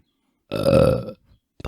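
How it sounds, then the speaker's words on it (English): A single long, deep burp from a New Zealand Twitch streamer during an interview, loud and close, lasting about half a second with no talk over it, followed by a brief faint sound. "I need a burp again."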